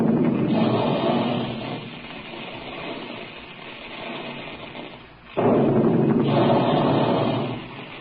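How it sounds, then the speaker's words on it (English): Booming big-gun fire as a radio sound effect, loud rumbling blasts in two bursts separated by a brief dip, with no voices over them. "There go the big guns now"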